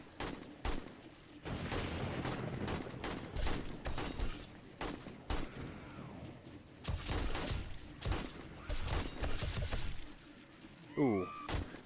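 Bursts of firearm gunfire in the zombie survival game 7 Days to Die, loud sharp shots in irregular clusters with thuds between, under occasional talk.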